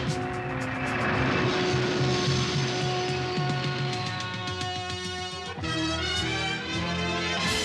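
Animated cartoon sound effect of Transformers Autobots taking off: a loud, sustained roaring engine whoosh with rising tonal whine, shifting pitch midway as the takeoff surges, heard alone without voices.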